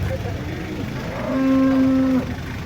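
A cow at the Karanggede cattle market lets out a single low, drawn-out moo over a steady background of crowd and outdoor noise.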